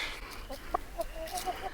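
A few soft, short clucks from chickens, spaced irregularly over low background noise, fairly close.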